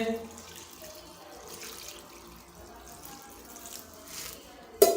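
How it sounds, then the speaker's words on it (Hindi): Water poured from a jug into a pot of chopped mustard greens for sarson ka saag, a steady close splashing and trickling that runs throughout, ending in a brief louder knock. "ये हमने पानी डाल दिया इसके अंदर।"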